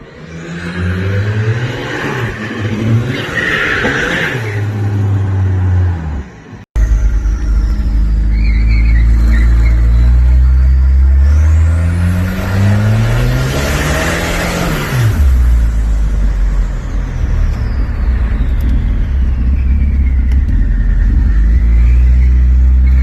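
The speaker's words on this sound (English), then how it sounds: "I think we should go test drive it." A Volvo 760 Turbo on a test drive: the engine rumbles loudly from inside the car, revving up and down through several accelerations with a brief cut partway, and no one talking.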